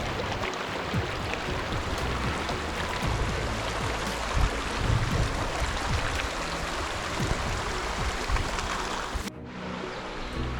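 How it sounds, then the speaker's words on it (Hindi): Kheri River flowing through forest in Similipal National Park, Odisha, a loud continuous broadband rush of water close by, steady throughout with a brief drop in brightness near the end. "ये आपका जो पानी का एकदम अमेजिंग साउंड सुन रहे हो, ये साउंड है खेरी रिवर का"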